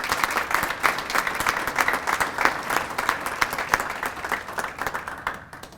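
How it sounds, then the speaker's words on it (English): Sustained applause from an audience at a college alumni awards ceremony, steady and fairly full for several seconds before thinning out at the end, with no one talking over it. "let's give him a round of applause"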